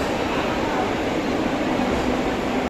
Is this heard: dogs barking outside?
no